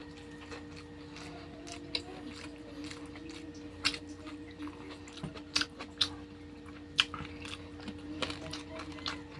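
Close, faint chewing of fried snails cooked with tomatoes, with irregular crunchy bites and soft squishy mouth sounds spread over several seconds against a low background hum.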